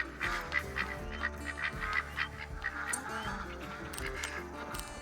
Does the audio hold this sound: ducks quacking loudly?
yes